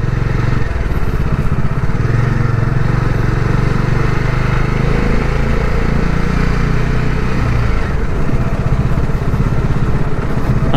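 A motorcycle ridden along a narrow Konkan village road, its engine a loud, close, continuous drone with steady rumble and slight pitch shifts, alone without talk.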